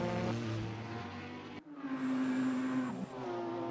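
Engines of racing cars leaving the start of a video game race at the Tokyo R246 circuit, GT Ferraris among them: steady loud engine drone, brief cut, then rising revs and a sustained engine tone.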